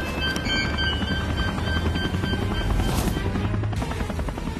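A cartoon magic helicopter speeds out of control, giving off a steady, loud whirring roar that holds without a break.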